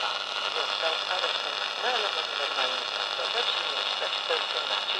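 A Unitra Eltra 50 MOT-729 miniature transistor radio gives off a steady, loud hiss of static with faint warbling fragments of distant broadcast voices drifting through it, continuous for the whole stretch.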